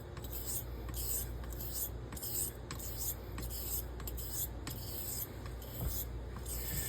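A straight razor drawn in short half strokes across an Ardennes coticule sharpening stone, giving a soft, steady rhythmic rasping scrape repeated many times at close range.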